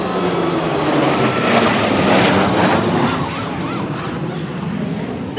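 Aircraft engines drone steadily as planes fly synchronized maneuvers at a 2003 air show in Chennai, a broad, continuous roar that swells slightly in the middle and holds at a loud, fairly close level with faint background music.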